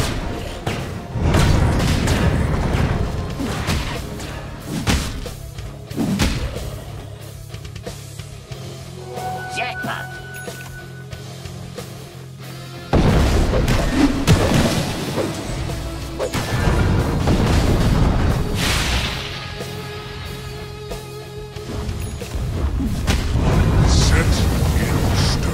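Combat booms and crashes from a Dota 2 match as a tower comes under attack, with Earth Spirit in play; dense, loud game impacts and thuds layered over a busy effects bed throughout, with an announcer-style voice present.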